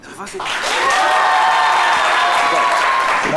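A live audience at the FEMUA festival in Abidjan breaks into applause, swelling over the first second into a loud, dense wash of clapping with voices and cheering layered through it.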